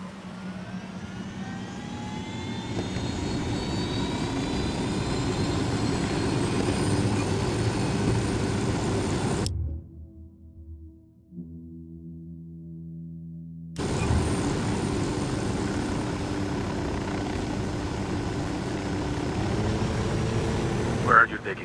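Aircraft engine droning steadily as the player pilots in Tom Clancy's Ghost Recon Wildlands, a loud sustained whine that cuts out briefly for a short low interlude, then resumes.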